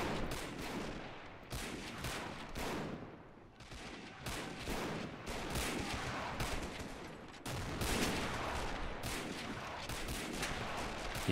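Bolt-action Lee Enfield rifles and other gunfire crack repeatedly in a World War II battle in the game Men of War, with dense overlapping shots and explosions throughout a long firefight.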